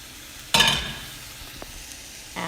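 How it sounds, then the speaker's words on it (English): Pre-roasted rava (cream of wheat) tipped into a hot pan with a sudden loud hiss and rustle, fading over a second, then a faint scrape and a second burst of stirring near the end. "all we're gonna do is add in our pre-roasted cream of wheat or rava"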